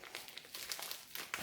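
A sticky bubble envelope holding a diamond painting canvas is pulled open, giving a steady soft crinkling and plastic rustle with small tearing bursts throughout.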